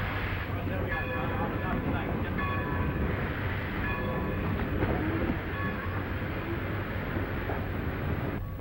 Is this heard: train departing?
yes